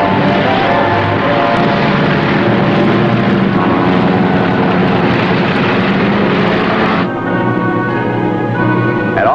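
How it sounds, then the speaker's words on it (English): Fighter planes launching from an aircraft carrier, a loud, close, continuous propeller engine roar that holds steady and then shifts in tone as it passes, with no voices. "Admiral Mitchell had given the orders to launch his fighters."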